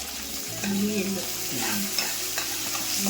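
Curry leaves, green chilli and white sesame seeds fry in hot oil in a pan with a close, busy sizzle and crackle, while a spoon stirs and scrapes against the metal.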